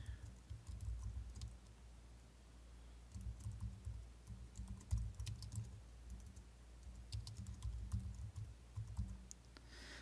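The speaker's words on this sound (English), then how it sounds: "And then I would type in" Text typed on a computer keyboard, a close, quiet run of rapid key clicks in bursts with brief pauses, over a low background hum and with no voices.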